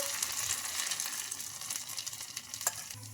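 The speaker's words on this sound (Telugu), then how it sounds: "ఇంకా మనకు రెండు వైపులా బాగా ఫ్రై అయిపోయిందండి" Sago and peanut breakfast batter frying in a pan at home, a steady close sizzle with occasional stirring and scraping, no talk.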